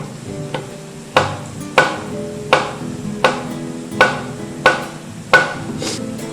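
A knife slices a pitted fruit on a cutting board while preparing a Mexican mole dish, with eight evenly spaced, crisp knocks landing close and clear, with no talking.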